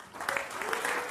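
Burst of crowd applause used as a podcast effect, steady broadband clapping filling the whole moment with no voices over it.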